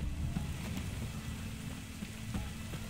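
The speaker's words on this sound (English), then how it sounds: "Looks like rain." Rain falls steadily in The Witcher 3, a constant close wash of patter with a few slightly louder drops poking through. No one speaks over it.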